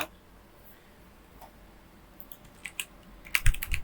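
A few computer keyboard keys are tapped, Ctrl+S followed by F5 during Python programming, the sharp clicks gathering near the end after quiet background.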